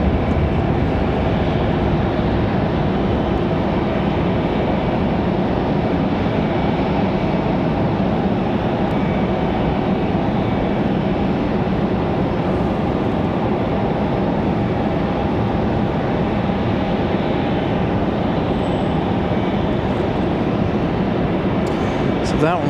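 A Wheels Up plane coming in from Marco Island to Raleigh Durham airport gives a loud, steady, broadband jet roar that stays sustained throughout against open outdoor air.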